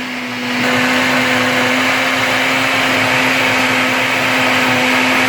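A blender whirs loudly and steadily after a quieter start while blending red salsa, motor hum constant throughout with no voices.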